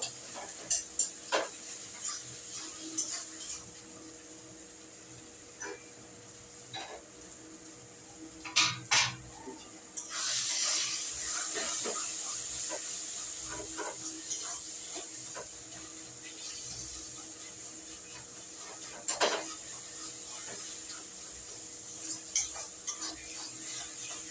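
Taro stolons (kochur loti) being stirred and mashed in a pan, with soft scraping and intermittent knocks and taps of a utensil over a low, quiet background.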